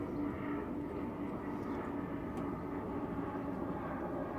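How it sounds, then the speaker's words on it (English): An airplane flies overhead outdoors just after sunset, a continuous low engine rumble holding steady at moderate distance throughout. "Unfortunately the airplanes don't stop,"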